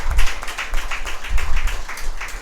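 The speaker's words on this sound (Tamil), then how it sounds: "எல்லாரும் கைத்தட்டுங்க, நல்லா கைத்தட்டுங்க" Churchgoers at a Sunday service clap their hands together in a steady rhythm, a roomful of overlapping claps that swells, dips and surges again over a couple of seconds.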